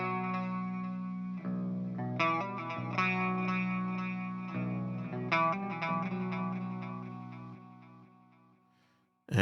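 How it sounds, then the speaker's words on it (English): A track run through a fully wet delay effect: sustained, layered musical tones with echoing repeats and chorus-like smearing, decaying toward silence before a brief sharp burst at the end. "all we would hear is the delay"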